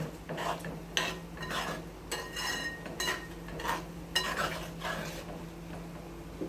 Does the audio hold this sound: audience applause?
no